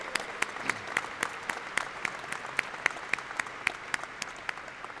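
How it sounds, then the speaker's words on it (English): A conference audience at an industrial technology event claps for the sponsors, a steady spread of applause at low level with sharp individual claps standing out and no talk over it. "Let's give them a big round of applause for all the sponsors that are here today"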